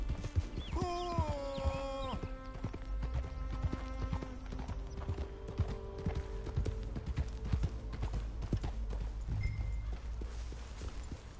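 Horse hooves clip-clop at a walking pace in Red Dead Redemption 2, a close, regular rhythm of hoof strikes with a brief whinny early on and faint background game ambience.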